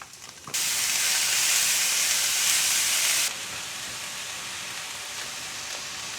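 Onions, red and green peppers hit a pan of cooking sausage with a loud, steady burst of sizzling that lasts a few seconds, then settles into a quieter, continuous hiss.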